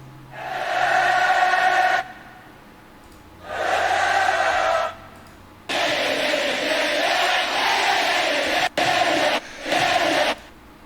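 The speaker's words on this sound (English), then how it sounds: "I just want a crowd clap though." Festival crowd cheering sample played back in Ableton, several separate bursts of massed cheering and roaring, each a couple of seconds long, separated by silence, no talk over it.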